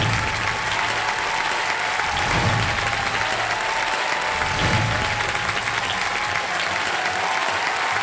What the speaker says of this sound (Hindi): मैं चाहता हूं कि तालियों के साथ स्वागत किया जाए खान सर का और जाकिर खान साहब का।